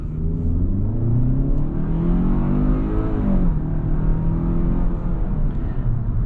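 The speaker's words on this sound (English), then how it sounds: "definitely nice and quick from a dead stop, since it is a naturally aspirated engine" A 2022 Hyundai Tucson N-line SUV with a naturally aspirated engine pulls away hard from a dead stop in sport mode, its engine note rising in a steady, loud, continuous drone with a brief dip partway through.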